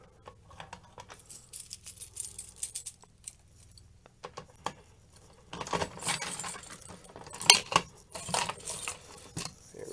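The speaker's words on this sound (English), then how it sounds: "I have a lot of keys." A big bunch of keys jangles and clinks in irregular bursts while someone handles them at a fire alarm panel during a test, close and fairly quiet, growing busier toward the end.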